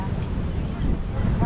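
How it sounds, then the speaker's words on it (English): Strong wind buffets the microphone outdoors, a steady loud low rumble across the whole stretch, with speech partly mixed in. "Man, it's windy out here today"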